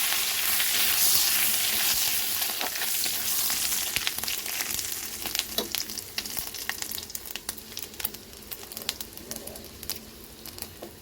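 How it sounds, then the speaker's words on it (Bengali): Panch phoron five-spice seeds hit hot mustard oil in a pan for a Bengali pui shak with prawns, crackling and sizzling loudly at first, then settling into a steady fry scattered with sharp little pops. "তেলটা গরম হয়ে গেছে, এরপর 5 ফোড়ন দিয়ে দিলাম।"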